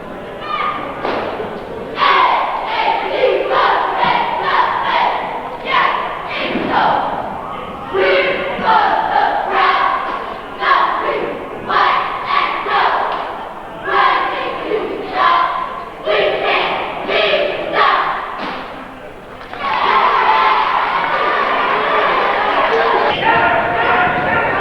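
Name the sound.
varsity cheering squad cheering at basketball game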